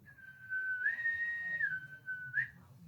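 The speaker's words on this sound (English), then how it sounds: "bosun's mate of the watch will blow the whistle" A bosun's whistle pipes a visitor aboard a Navy ship at the quarterdeck, with one clear, shrill held note that swells higher in the middle and ends with a brief upward trill, over quiet room noise.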